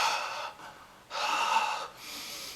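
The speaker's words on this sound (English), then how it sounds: "I'm breathing." Exaggerated, heavy breathing from a man: three loud, drawn-out breaths in quick succession, close to the microphone, with no talking.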